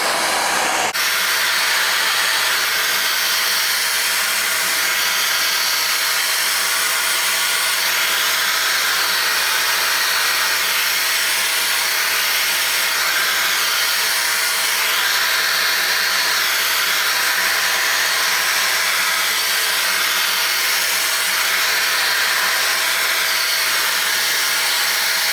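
A hair dryer switches on and then blows on its cold setting, a loud, steady rushing whoosh of air that continues unbroken and close throughout, with no talking.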